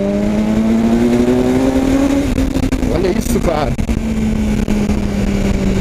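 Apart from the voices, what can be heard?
BMW S1000 R motorcycle engine revving during test ride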